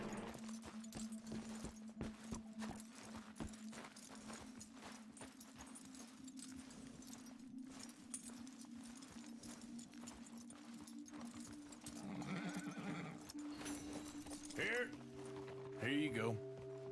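Horse hooves clip-clop steadily in the video game Red Dead Redemption 2, with mechanical clicks around them and a low hum beneath. A voice speaks briefly near the end.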